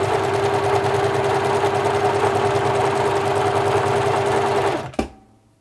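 A 1980s Singer Futura Electronic 2002 sewing machine runs at a fast, steady whirring clatter, close and loud, then stops abruptly with a clunk near the end.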